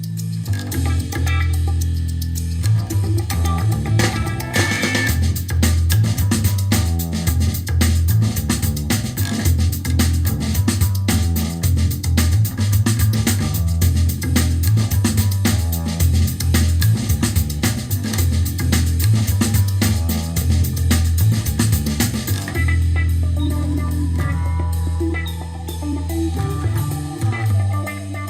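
Loud, bass-heavy music plays continuously over Bluetooth through a Sherman APS-115 loudspeaker for the whole stretch, with no voices over it.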